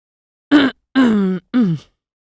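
Someone clears their throat three times in a row, with short, voiced grunting coughs and brief pauses between them.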